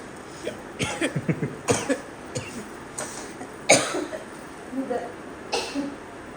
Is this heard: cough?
yes